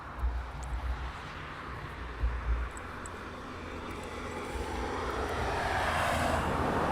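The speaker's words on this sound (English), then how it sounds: "We've got a touch and go with the C17." A C-17 Globemaster jet transport flies a touch and go at RAF Brize Norton, its engine roar building steadily from a distant rumble to a loud, broad wash of jet noise with some wind buffeting at the microphone.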